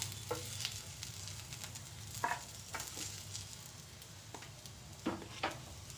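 Onions fry in oil for garlic chutney with a soft, steady sizzle, broken by occasional sharp stirring clinks and scrapes.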